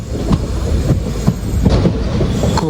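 A passenger train on the Kollam–Aryankavu line in Kerala rolls steadily along the rails past New Aryankavu station, with a continuous low rumble and periodic clicks of wheels over rail joints, heard from inside a coach.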